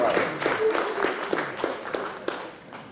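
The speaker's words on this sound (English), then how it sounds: "let us give him a very big round of applause" Scattered applause from a conference audience, with individual claps standing out in an uneven, moderately close patter that thins toward the end, while a voice speaks over it.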